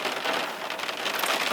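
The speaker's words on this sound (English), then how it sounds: "It's raining." Rain falls in a steady, dense hiss of drops hitting surfaces, even and unbroken over a short stretch with no voices.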